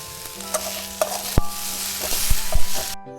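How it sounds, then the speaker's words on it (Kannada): Chicken gravy masala frying on a low flame, a steady soft sizzle with repeated spoon scrapes and taps against the pan, close and without talk. "ಆದಷ್ಟು ಇದನ್ನು ಲೋ ಫ್ಲೇಮಲ್ಲೇ ಫ್ರೈ ಮಾಡಿ"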